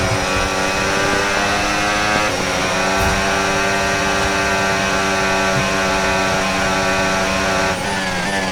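A Formula 1 car in the F1 26 racing game runs at a loud, steady high-revving engine whine with dense harmonic tones, pitch shifting briefly around gear changes, heard alone throughout.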